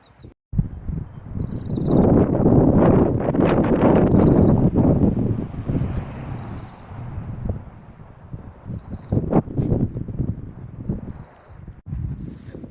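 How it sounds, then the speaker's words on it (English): Wind gusting outdoors in a pine-forested neighborhood in Flagstaff, a loud buffeting roar against the microphone that swells, eases and surges again, with faint rustling and no talk. "as the wind picks up here"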